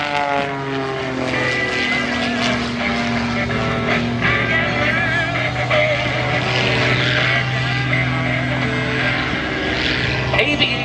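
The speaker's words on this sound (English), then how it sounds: "flying this 1956 de Havilland DHC-1 designed originally as a trainer for the Royal Canadian Air Force" A 1956 de Havilland DHC-1 trainer aircraft flies low-level aerobatics at an air show, its piston propeller engine droning steadily and loudly throughout with a shifting pitch as it maneuvers, with faint crowd noise underneath.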